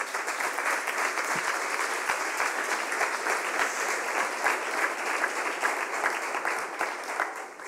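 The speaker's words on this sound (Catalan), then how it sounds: "un aplaudiment per a ells, per a Vicent Baidal i Toni Sabater." An audience at the Premis Lletraferit 2022 awards ceremony applauding steadily, a dense wash of many hands clapping at moderate distance, sustained without a break.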